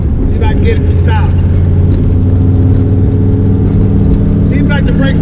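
Race car under hard braking during a brake test, a loud steady engine drone with shifting tones close to the microphone, faint brief voices above it.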